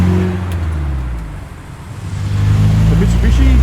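A Nissan Silvia street car drives past on a suburban Sydney street as traffic leaves a car show, its engine note loud and close, dipping then swelling again as it pulls away under steady road rumble.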